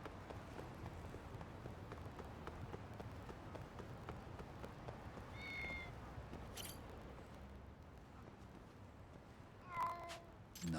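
Cats meow in the video game Lost Judgment, with a short meow midway and another brief one near the end, both over a steady busy background of game ambience.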